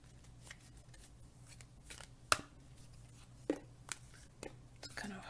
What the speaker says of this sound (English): then I'm gonna shuffle the cards